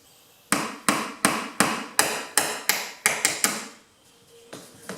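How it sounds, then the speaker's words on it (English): White aluminum nails are popped out of a garage door weather-stripping seal with a series of sharp, close knocks, about a dozen struck in an uneven rhythm, each with a short ringing decay. "Just pop them out like that and pull them out."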